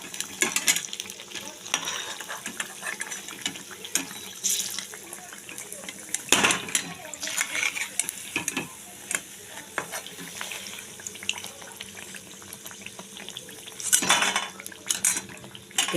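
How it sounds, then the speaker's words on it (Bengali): Beguni, eggplant fritters, frying in hot oil with a continuous crackling sizzle, interrupted by sharp clinks and scrapes of utensils against the pan at irregular intervals. "এভাবে আমি সবগুলোকে ভেজে নেব।"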